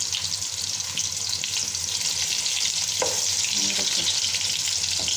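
Minced-meat kofta meatballs fry in a pan of oil with a loud, dense, continuous sizzle, close by, with a few faint scrapes partway through.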